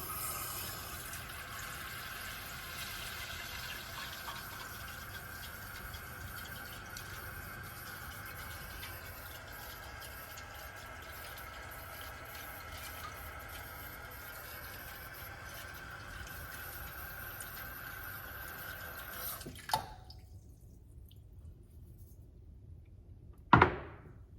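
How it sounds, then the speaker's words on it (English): Water from a pot filler faucet runs steadily into a pot for about twenty seconds, a continuous rushing stream that stops abruptly, followed by a couple of soft clunks. "We're going to use our pot filler to add our water in."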